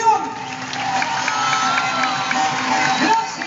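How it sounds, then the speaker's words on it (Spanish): A circus audience bursts into loud, sustained applause mixed with cheering and whoops, a dense crowd roar that holds steady for several seconds with a few swells. "que con sus aplausos les hagan saber qué tanto les gustó su función"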